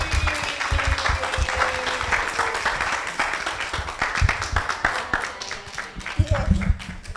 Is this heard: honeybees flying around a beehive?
no